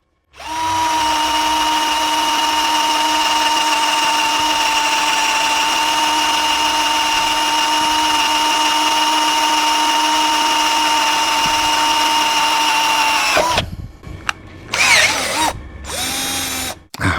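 A Xenon cordless drill bores into iron, its motor whining steadily and loudly for about thirteen seconds before stopping, followed by a few short bursts of restarting and slowing at lower speed.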